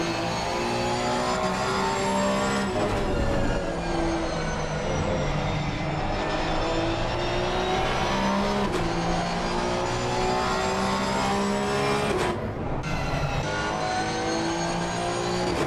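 Porsche race cars lap the Donington circuit in Assetto Corsa Competizione, engines droning and revving loudly with rising and falling pitch as gears shift, a continuous close engine roar throughout.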